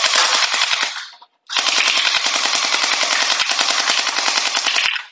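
A gel ball blaster firing 6 to 7 mm gel balls lets off rapid automatic bursts of sharp pops, close and loud, with a brief pause between two long strings of shots.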